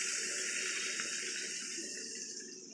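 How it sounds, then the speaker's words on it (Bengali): Water is poured into a pan of chicken and potato curry, making a steady, close hissing pour that fades slightly toward the end. "এবার জল দিয়ে দিব"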